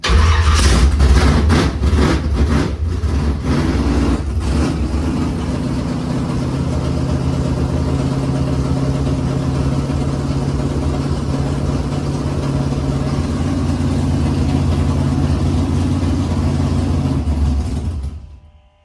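A Chevy engine with an MSD ignition cranks and catches, then settles into a loud, steady, rumbling idle that runs unbroken before cutting off at the end.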